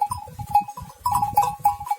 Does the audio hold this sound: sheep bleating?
yes